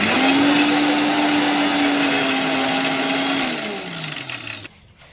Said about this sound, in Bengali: এখন এখানে এই থানকুনি পাতাগুলোকে জাস্ট একটা কাঁচা লঙ্কা দিয়ে বেটে নেবো হালকা একটু নুন দিয়ে